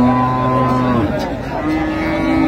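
Dairy cows and calves at a busy rural cattle market in Dinajpur, with a cow lowing in a long drawn-out moo near the start, a second call following, and a murmur of people and market noise behind.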